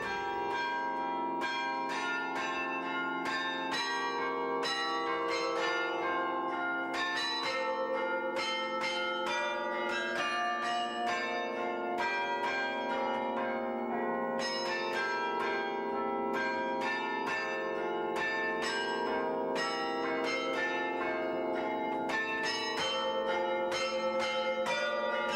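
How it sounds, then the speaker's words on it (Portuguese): Carillon bells rung at the Convent of Mafra, many bells struck in a continuous melodic sequence, loud and resonant, with tones overlapping and sustaining throughout. "é Sara Rosa Elias, entusiasmou-se pelos carrilhões e, como vê, já vai tocando, já vai tocando."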